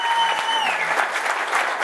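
A room rises in sustained applause for members of the Navajo Republican Committee, steady dense clapping from a crowd with faint voices mixed in.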